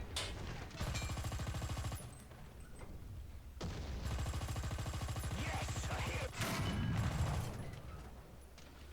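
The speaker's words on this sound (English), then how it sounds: "I'm doing more with the machine guns this match than I am with the cannon" Tank machine guns in a desert battle video game fire long rattling bursts, loud and close, broken by short pauses and a few heavier impacts, with no speech.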